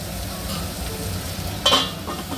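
Chopped spiny gourd (boda kakarakaya) stirred in a frying pan for a spicy gravy curry, a soft steady sizzle with a brief louder scrape of the spoon partway through, close and alone.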